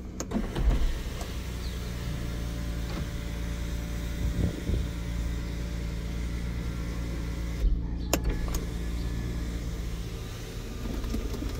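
The electric sunroof on a 2008 Mitsubishi Pajero V93 whirs as its motor runs steadily for several seconds, close and moderately loud, ending with a click as it stops, while the engine idles underneath.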